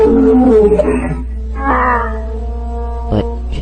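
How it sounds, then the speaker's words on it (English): A baby dinosaur roars out toward its mother as floodwater recedes, a long wavering tonal cry followed by a second shorter roar and a brief sharp burst, loud and alone. "He roars to her thinking she might be able to hear him."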